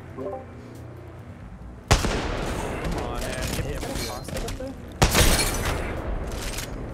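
Gunfire in Apex Legends ending in a headshot, with two sharp loud broadband shots about three seconds apart, each followed by dense clattering game noise and a voice talking throughout.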